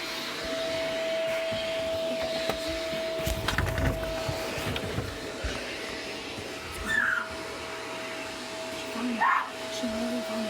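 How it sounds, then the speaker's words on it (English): A vacuum cleaner runs steadily in a nearby room, a continuous whining drone with a few bumps and scrapes, while faint voices and movement come and go. "Someone's vacuuming."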